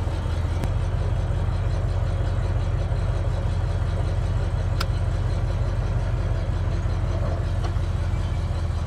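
A 1951 Willys M38 jeep fitted with a Studebaker 289 V8 runs steadily close by, a deep, even rumbling idle with a strong low throb and no talk over it.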